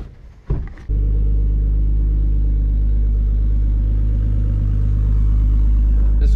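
A Nissan 240 starts up with a sharp burst, then settles into a steady, loud, close engine rumble that holds constant as it drives around the block, with a brief rise near the end.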